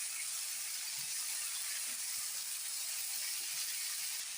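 Bitter gourd and potato fry in oil with onion and whole cumin, a constant bright sizzle that stays even and close throughout, with no talking.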